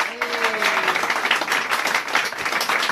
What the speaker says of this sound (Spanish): Fuerte aplauso a ese Rey poderoso.